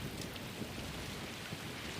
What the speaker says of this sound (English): it looks like the rain is kind of just pasted on the screen